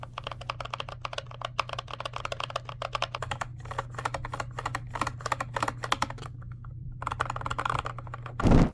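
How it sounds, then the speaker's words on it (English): Gateron silent linear low-profile hot-swap switches with PC keycaps on a fightstick are pressed rapidly, producing a dense flurry of soft, close clicks and taps over a steady low hum, ending in a brief louder thump. "The hot swappable keys are Gateron silent linear low profile switches with PC keycaps"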